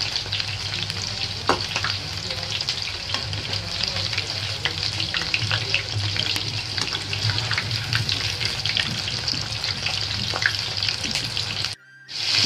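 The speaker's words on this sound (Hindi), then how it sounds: "ये देखिए फिश फ्राई हो रही है यहाँ पर।" Fish frying in a pan: a steady, dense sizzle with crackling pops running continuously at close range, cutting out briefly near the end.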